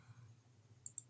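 Two quick, faint computer mouse clicks in close succession over a quiet room hum.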